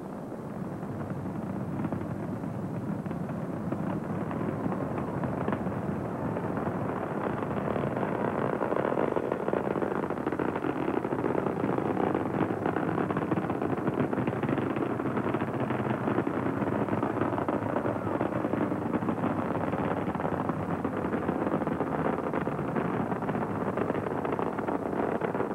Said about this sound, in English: STS-29 as Discovery clears the tower.